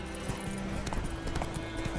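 Hooves of Roach the horse in The Witcher 3 video game drum in a fast galloping clip-clop over a steady wash of game ambience, continuous and fairly loud.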